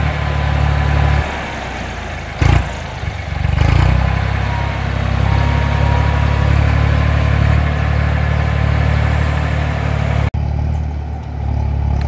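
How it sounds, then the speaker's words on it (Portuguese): A Valtra A950R tractor engine runs steadily at a low, rumbling idle close by on a farm while shaping a contour terrace with a JZ rear blade, with a couple of brief knocks partway through and no talking. "Olha o trator."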